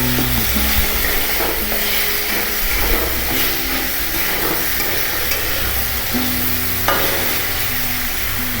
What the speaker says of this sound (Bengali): হালকা একটু ভেজে তুলুন।